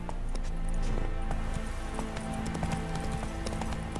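Horse galloping in The Witcher 3 video game, a rapid rhythmic clip-clop of hooves running steadily and close throughout, with a dense backdrop of game ambience.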